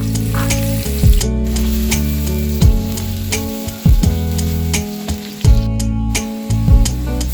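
Onion sizzling loudly in half a cup of hot oil, close up, with steady frying crackle broken by repeated scraping stir strokes every second or so.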